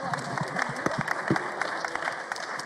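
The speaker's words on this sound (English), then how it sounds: "Give them a round of applause," An audience at a youth leaders' forum applauds the panelists, a dense steady patter of clapping filling the hall with a few sharper claps standing out, fairly distant and even throughout.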